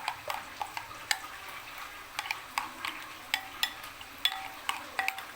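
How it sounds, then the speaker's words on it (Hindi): A spoon stirs yogurt into a pot of mutton curry for Lahori daal gosht, giving soft repeated clicks and scrapes against the pot in an uneven rhythm over a faint simmer, fairly quiet and close. "अच्छे से मिक्स कर लेते हैं और ये दही हमने सालन के अंदर डाल दी गोश्त में।"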